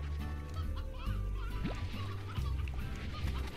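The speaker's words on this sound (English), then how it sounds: "we're running a little low on chickens." Chickens in the Slime Rancher video game cluck faintly beneath a steady, droning game soundtrack that stays level throughout.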